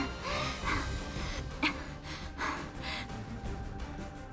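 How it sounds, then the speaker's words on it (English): Misaki, a character in the visual novel game Aokana, gasping for air in a series of short, breathy inhalations and exhalations, with one sharper gasp standing out midway. "Misaki is gasping for air."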